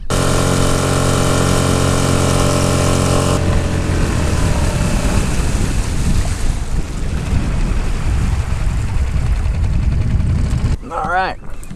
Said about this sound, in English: So let's get this motor started and run.